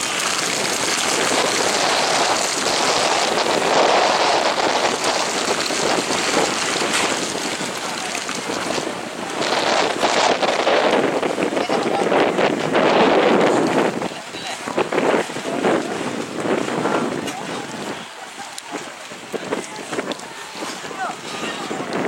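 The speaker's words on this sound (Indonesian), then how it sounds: "Kawan-kawan di sini masih berusaha keras menahan angin yang semakin kuat." Strong gusts roar across an open paragliding venue in Aceh, a loud, continuous buffeting rush of wind against the microphone with flapping tent fabric and faint voices beneath.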